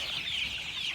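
Chicks at a farm selling Andijon black chicks over a month old give short clucking and cheeping calls close by over a soft steady background.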